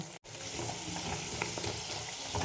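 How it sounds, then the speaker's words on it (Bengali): Potatoes fry in hot oil with a dense, continuous close-up sizzle that cuts out for a split second near the start, with faint stirring underneath. "এইভাবে আমি আলুগুলোকে আমি ভেজে নেব"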